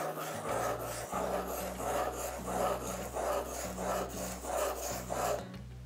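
A knife drawn across a whetstone under heavy pressure, with steady rhythmic rasping strokes, about eight back-and-forth passes, close and moderately quiet.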